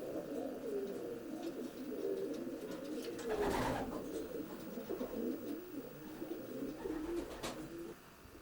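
Young racing pigeons in a Scottish loft keep up a soft, continuous cooing chorus at close range, with a couple of louder flutters or calls standing out midway and near the end.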